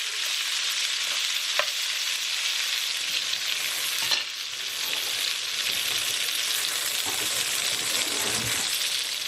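Leftover potatoes frying in olive oil in a pan, a loud, steady close sizzle and crackle with occasional clinks and light scrapes from a utensil, no talking.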